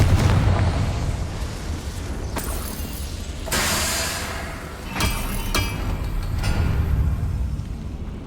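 A Confringo explosion spell in the game Hogwarts Legacy bursts with heavy booming blasts and rumbling, with repeated loud impacts and sharp cracks over a dense, continuous roar of battle noise.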